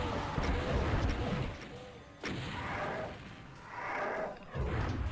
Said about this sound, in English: now let's go ahead and fire off the rockets